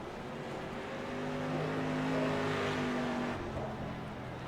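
Race cars at Hickory Motor Speedway idle around under caution, a steady, droning engine hum from the pack that swells slightly and fades, with no sharp revs or voices.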